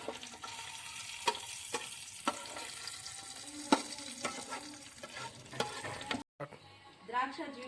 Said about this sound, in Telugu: గుమ్మడికాయ హల్వాలోకి జీడిపప్పు ద్రాక్ష వేసి వేయించుకుందాం నెయ్యిలో.